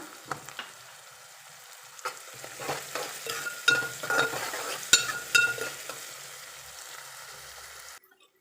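Onions fry in oil in a pan with a pinch of salt. A soft, steady sizzle runs under scattered louder crackles and spatula scrapes, close by and with no voices, ending in sudden quiet.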